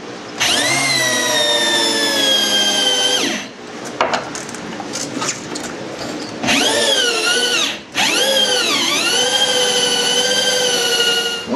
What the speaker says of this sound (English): which actually allows me to drill a little bit deeper into it at an angle